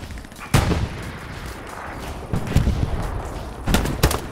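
Gunfire in a video game, several loud, sharp shots spaced irregularly, including a close pair near the end, over a steady background of battle noise.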